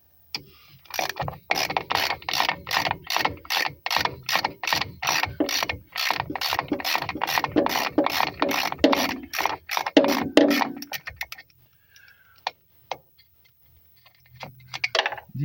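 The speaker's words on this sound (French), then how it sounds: "Qu'est-ce que ce cliquet là il va passer?" Rapid ratchet wrench clicking while dismantling a wrecked Peugeot 306 for parts, a steady run of close, loud pawl clicks for about ten seconds, then sparse scattered clanks and quiet.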